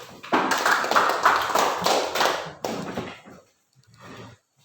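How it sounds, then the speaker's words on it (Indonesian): Classroom applause from students for a classmate called up to read his work, a dense burst of clapping that runs for a few seconds, fades, then gives way to a quieter trailing patter. "Tepuk tangan untuk Kakak Pedro dulu"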